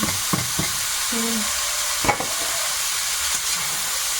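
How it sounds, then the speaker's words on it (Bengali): Large river shrimp fry in oil in an outdoor Sundarban kitchen, giving a steady close sizzling hiss with a few soft stirring clinks and a brief louder scrape midway, with no voices. "চিংড়িটা হালকা ভাজা হয়ে গেছে"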